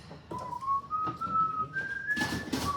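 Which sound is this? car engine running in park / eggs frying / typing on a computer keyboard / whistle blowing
whistle blowing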